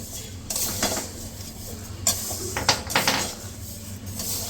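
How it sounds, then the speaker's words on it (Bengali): Mung dal fries in a pan while a utensil stirs and scrapes, with metallic clinks and knocks of cookware over a soft, steady sizzle. "আর এখানে মুগ ডাল ভাজা হচ্ছে"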